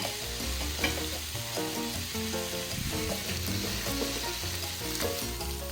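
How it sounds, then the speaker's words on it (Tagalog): Chicken liver fries with a steady loud sizzle in a pan while a utensil stirs it in repeated scraping strokes, cooking for pancit bihon. Background music plays throughout. "ilagay ko na rin yung ating atay or liver yung chicken liver natin"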